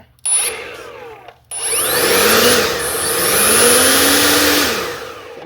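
An OGERY battery-powered handheld leaf blower winds up loudly, cuts out briefly, then roars back with a steady high-pitched whine and rushing air that swells and settles close by.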